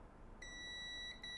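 A multimeter's continuity tester beeps as its probes touch the ground plane on a mobile phone circuit board, giving a steady high electronic tone that starts partway in and holds, briefly dipping near the end, over a quiet background hiss.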